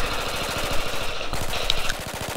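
F2000 assault rifle firing in Battlefield 4 with muzzle brake and stubby grip attachments: a rapid, even stream of automatic shots in sustained bursts, loud and close, with no talk.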